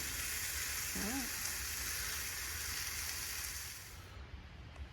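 Dinner cooks on a camp stove with a steady hiss and sizzle, fairly faint and continuous. A short vocal sound breaks in briefly near the start, and the hiss drops away toward the end.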